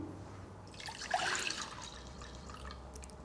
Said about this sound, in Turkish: sütümü koyuyorum